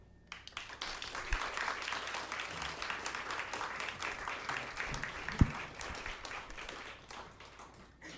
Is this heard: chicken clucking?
no